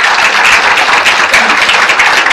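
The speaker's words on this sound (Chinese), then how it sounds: "我们再给Sharon一个热烈的掌声" Warm, sustained applause from an audience at a testimonial sharing session in Muar, Malaysia, a steady dense wash of clapping hands with no pauses.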